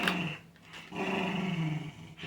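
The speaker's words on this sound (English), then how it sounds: "I'm sorry about my dog, y'all." A dog growls low and close in one sustained rumble that rises and continues, with a short pause partway through.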